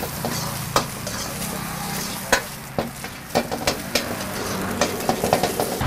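Egg stir-fried with capsicum and onion in a hot pan, sizzling steadily under sharp, irregular clacks of a spatula stirring against the metal, close and loud, with no talk.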